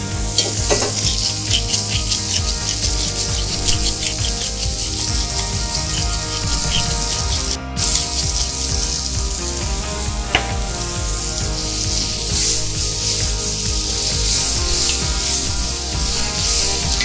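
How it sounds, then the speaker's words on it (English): Liquid hits a hot pot of hearty stew during deglazing, a loud close sizzle and bubbling hiss with stirring clatter, sustained and dense, no talking. "then we're gonna start to deglaze it"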